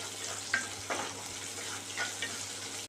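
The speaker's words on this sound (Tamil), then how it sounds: "கல்ல முருங்கைக்கீரை எண்ணெயில் வாரி போடுங்க. போட்டு கிளறுங்க." Drumstick leaves frying in hot oil in a home kitchen pan while being stirred give a steady close sizzle, broken by a few soft scraping stirs.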